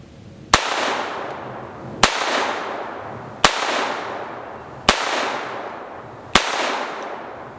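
Walther P22 pistol firing five cheap .22 rounds at a cardboard target outdoors, sharp evenly spaced cracks about one and a half seconds apart, each trailing off in a short echo.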